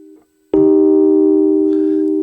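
Two sustained pitched tones sound together as a harmonic interval, starting abruptly after a brief quiet and holding steady.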